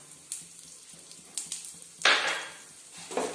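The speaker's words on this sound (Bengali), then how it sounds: "এবার আমি তেলটা গরম হয়ে গেছে কালো জিরাটা দিয়ে দিলাম।" Black cumin (nigella) seeds hit hot oil in a pan, setting off a sudden bright sizzle about two seconds in that slowly fades, with a few light pan clinks around it. Close by, and no talking.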